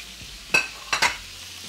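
A rolled item shallow frying in a little hot oil, with a faint background hiss broken by two or three sharp spattering bursts close by.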